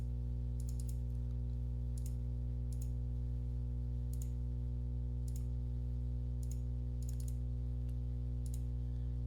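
Sharp, light clicks from a computer mouse while working in Calypso measurement software, arriving singly and in quick pairs at irregular intervals over a steady low electrical hum.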